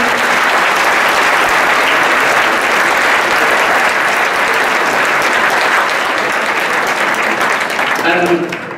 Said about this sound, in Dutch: een applaus voor de KKA werkgroep.